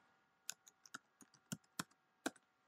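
Keys clatter on a computer keyboard as a web address is typed in, about a dozen quiet, irregular clicks with brief pauses between them, close and alone.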